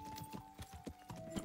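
Horse hooves clip-clopping in the medieval video game Kingdom Come: Deliverance, a quiet, steady trotting rhythm of distinct hoofbeats over a faint, steady background tone.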